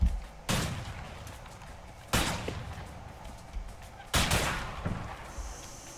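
Gunfire in the co-op prison-break game A Way Out during a big shootout: three loud sharp bursts spaced about two seconds apart, each with a ringing decay, plus a few smaller shots between, with faint background ambience.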